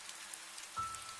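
Steady rainfall patters on a surface in a horror cartoon story, a soft, faint hiss of drops with a brief low thump near the end.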